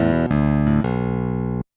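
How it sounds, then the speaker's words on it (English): Dry clavinet with no effects playing a few bright, percussive keyboard notes in quick succession, then a held chord that cuts off abruptly, close and loud with no voices. "if I want to record this clavinet sound that sounds like this when it's dry"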